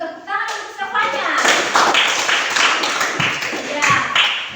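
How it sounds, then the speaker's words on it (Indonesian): Students in an Indonesian classroom clap for a classmate, a short voice at the start giving way to several seconds of dense, close hand clapping from the whole room. "tepuk tangan untuk siapanya"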